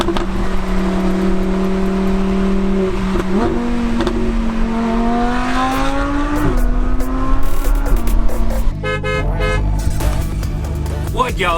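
Audi R8 with a newly fitted aftermarket exhaust revving loudly nearby: sustained engine drone rising in pitch through several revs, then a sharp change toward the end with crackling from the exhaust.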